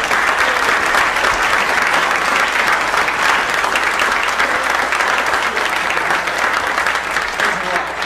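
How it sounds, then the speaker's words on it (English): Loud, dense applause from a JFK assassination conference audience for an author, sustained evenly throughout with a faint murmur of voices mixed into the clapping. "give me another round of applause for Vince Palamara"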